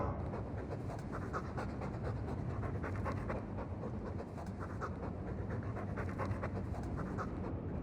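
A war dog in the video game Dragon Age II pants rapidly and rhythmically, close and steady from start to finish with no speech over it.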